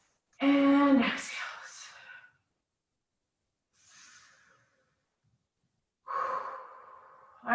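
Deep breaths during a mat Pilates class: a strong inhale, a long audible exhale, a faint breath midway and another full breath at the end, separated by quiet, close to the microphone.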